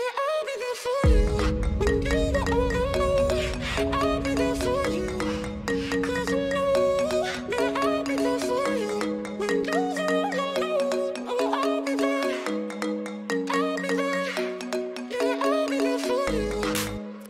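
Unfinished electronic music track with a dense steady beat and a sung vocal line layered on top, playing continuously at an even loud level before cutting off abruptly near the end.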